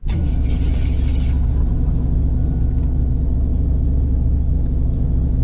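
A loud car engine in the Roblox game Greenville idles with a steady, low rumble, running continuously with no talking.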